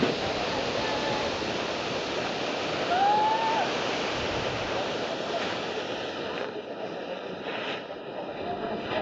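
Rushing water roars steadily at St. Anthony Falls in Indang, Cavite, a continuous broadband wash of a waterfall that holds through the whole stretch, with a brief faint whistle-like tone in the middle.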